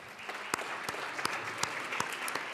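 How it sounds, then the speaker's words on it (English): A crowd applauding steadily in the Colorado House of Representatives chamber during a 2015 legislative session, dense clapping from many hands with a few sharper claps standing out, moderately loud throughout. "let's give them a big round of applause"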